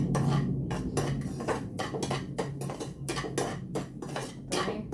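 Dishes, cutlery and utensils clatter and clink repeatedly in a home kitchen during cooking, sharp close metallic and ceramic knocks coming in quick irregular bursts.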